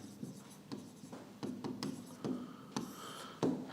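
Pen writing notes by hand on paper, a soft scratchy scribbling in short bursts of strokes with brief pauses, close but quiet, with no speech over it.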